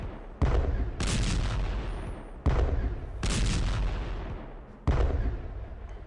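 Artillery fire in the World War 1 strategy game Strategic Command: three heavy, close booms spaced roughly two seconds apart, each followed by a long, crackling rumble that slowly fades.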